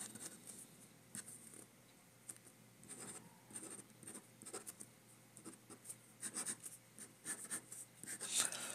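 Pencil sketching on paper, a rough drawing made at close range: faint, dry scratchy strokes in an uneven rhythm of short and longer marks, quiet and alone with no talking.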